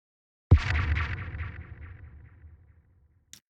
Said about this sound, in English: we're going to include the kick in here too, so we have that thud